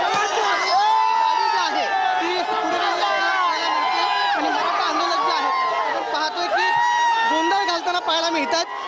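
A large crowd of Maratha reservation protesters chants and shouts slogans in unison around a politician's car, a dense, loud, continuous roar of many voices close by.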